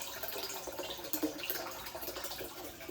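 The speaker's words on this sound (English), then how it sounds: "when you turn on the chiller, you should immediately hear water flow into your cold plunge" Water running from a cold plunge chiller into the plunge tub, a steady soft wash of flowing water with faint splashes and drips, fairly quiet and continuous throughout.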